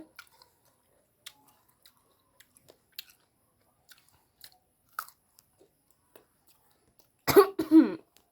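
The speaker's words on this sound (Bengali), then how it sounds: "সেজন্য কাশি লাগতেছে" Someone eating guava dusted with chili powder, salt and black salt coughs and clears their throat in a short burst near the end, after mostly quiet moments with faint small clicks.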